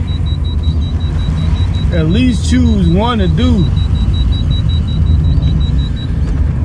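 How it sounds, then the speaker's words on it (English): A car rumbles with a steady low drone, loud and close, while a person talks over it. "Sorry, y'all, that's my car making that noise"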